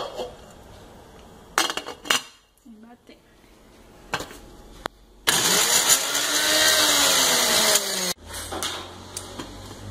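Garlic is ground dry in a blender with no water. Scattered clatter and knocks come first, then the motor roars loudly and steadily for about three seconds before cutting off abruptly, with no talking.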